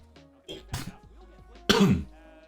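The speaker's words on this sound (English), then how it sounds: "Bit of a cough there" A few quiet throat sounds lead into one sharp, loud cough near the microphone, then it fades out.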